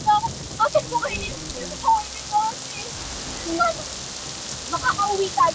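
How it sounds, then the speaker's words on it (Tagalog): Steady rain patters and hisses throughout, with faint voices and scattered higher chirps over the wash of falling water, in a forest during a lightning storm. "Ulan lang to at kidlat."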